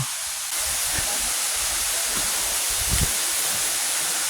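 Steady broadband rush of a jungle waterfall at Taman Eko Rimba Kanching in Rawang, a continuous hiss of falling water filling the scene with a few soft low thumps and rustles mixed in.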